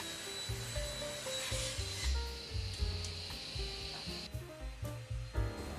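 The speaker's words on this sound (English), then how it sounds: "And running them over the small router now, put a little half round on them." A small router rounds over thin wooden strips for a birdhouse, a steady whirring motor with rasping wood contact rising and falling as each strip passes, close and fairly loud with no talk.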